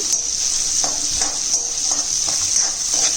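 Onions fry over low-medium heat in a pan for egg curry, a bright, steady close sizzle with periodic scrapes and light taps of a spatula as they are stirred.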